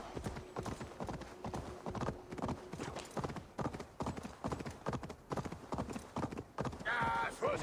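Horse hooves clip-clopping at a steady gallop in Assassin's Creed Valhalla, rhythmic and close throughout, with voices talking over the hoofbeats and a brief whinny near the end.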